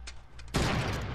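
Gunfire in the video game Fortnite Battle Royale: a sudden loud burst of shots that stays dense and sustained after a short, quieter stretch with faint earlier pops.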